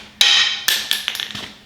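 A claw hammer taps on a part of a 5.7L Hemi engine during assembly, giving several sharp metallic strikes up close: one ringing hit, then a few quicker lighter taps.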